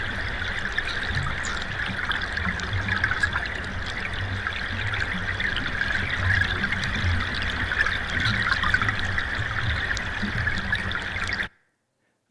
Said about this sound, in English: So you hear the ice clinking together here.